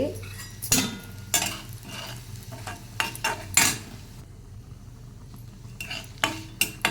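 Carom seeds, dry red chillies and curry leaves are stirred as they fry in a pan, with a faint sizzle under sharp scrapes and clinks of a metal spoon against the pan at uneven intervals.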